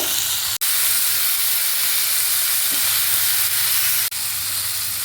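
Tamarind sizzling steadily in a hot pan while a travel-friendly chammanthi is being made: a loud, continuous frying hiss with two brief dips, and no voices.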